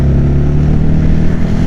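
A motorcycle engine held around 4,000 rpm while lugging in an uncertain gear, a loud steady low drone with a strong harmonic hum and slight throbbing, close up and alone for under two seconds.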